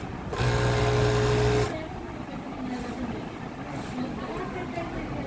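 A Jack W4S sewing machine runs steadily and loudly for about a second and a half, then stops, leaving faint shop background noise.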